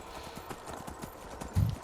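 Horse hooves clip-clop in a steady rhythm as a horse is ridden in the Skyrim video game, continuous and moderately loud, with a heavier thump near the end.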